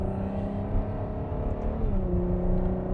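A 2014 Ferrari F12 Berlinetta cruising at an easy pace, its steady engine drone and road rumble holding even throughout with a slight shift in pitch partway through, no voices present.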